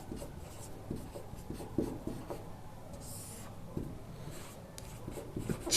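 A pen scratches steadily across paper while a math problem is worked out, the soft, continuous writing strokes close and quiet, with no voices.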